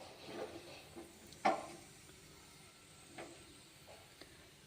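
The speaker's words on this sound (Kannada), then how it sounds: "ಈರುಳ್ಳಿ, ಮೆಣಸಿಕಾಯಿ ಹಾಕೋಣ." Onions and green chillies sizzle in hot oil for tomato rice, a soft, steady hiss broken by a few faint pops and one sharper burst, quiet and close.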